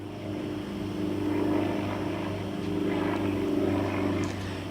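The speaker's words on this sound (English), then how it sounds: "Here we go, the newest of the new at Air New Zealand, the 321 Neo." An Air New Zealand Airbus A321neo at Gold Coast Airport, arriving from Auckland, gives a steady, moderately distant engine drone with a constant low hum and a smooth rise and fall of jet noise.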